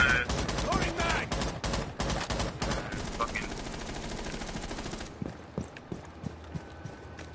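Rapid gunfire from a submachine gun in the online shooter Rainbow Six Siege, loud dense bursts for about five seconds, then scattered fainter shots and clatter.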